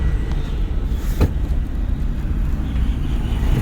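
A learner's car rolls along at low speed while the driver shifts from neutral into second gear, producing a steady, muffled engine and road rumble with a short thump partway through.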